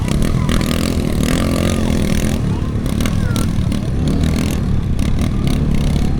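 Motorcycles cross a river near Calabasa, Gabaldon, Nueva Ecija, engines revving loud and close with clattering and splashing scrapes, while people talk over the noise.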